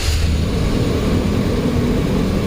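A 2007 Chevrolet Express van with a 4.3L engine, stalled out with P0131 and P0171 faults, idles with a steady low rumble, close and continuous, with no voices.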